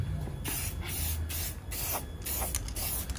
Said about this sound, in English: And now we'll just spray paint it black.